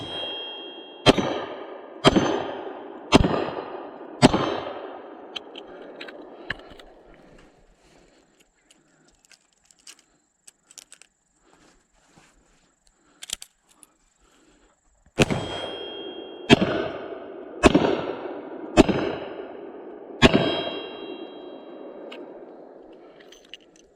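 A Ruger LCR revolver fires two cylinders, .38 Special +P then .357 Magnum: five loud, evenly spaced outdoor shots with ringing decay, a quiet pause with faint clicks, then five more shots.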